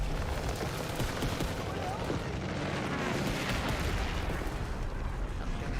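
Airstrike explosions in a Call of Duty: WWII jungle campaign mission, a dense continuous roar of blasts and rumbling gunfire filling the whole stretch at high volume.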